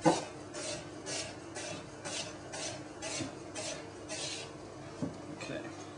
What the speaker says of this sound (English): This just means you can get the onion nice and fine.